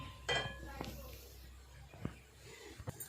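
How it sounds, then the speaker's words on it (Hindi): A metal spoon taps and scrapes against a frying pan while shakar para fries, giving a few faint, sparse clinks over a low background hiss. "इसी तरह हम चम्मच को चलाते हुए इसको अच्छी तरह गोल्डन ब्राउन होने तक पकाएंगे।"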